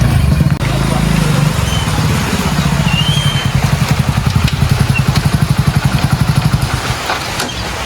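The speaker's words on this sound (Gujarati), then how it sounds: "આરી બાઈક" A motorcycle engine idles close by with a rapid, steady putter, preceded by a brief louder burst; voices talk faintly in the background.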